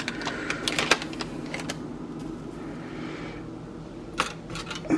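Cocoa powder is whisked into a drink in quick bursts of light rattling taps against a cup, with a softer steady patch in the middle and a last flurry near the end, close and dry, with no voices.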